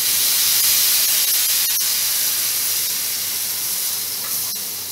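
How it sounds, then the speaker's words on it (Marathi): Milk poured into roasted amaranth flour in a hot pan gives a loud, steady steaming hiss and sizzle that holds throughout and fades slightly toward the end, with no voices. "आता आपण हे दूध घालणार आहे."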